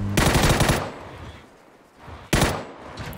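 Automatic weapon fire in a PUBG battle royale match: a loud, close burst of rapid shots, a brief lull, then a second burst starting abruptly.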